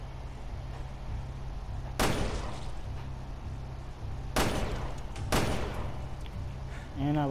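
Gunfire in the video game Resident Evil Revelations 2: three sharp, loud shots spaced apart over a steady low ambient hum, with a short tonal sound at the very end.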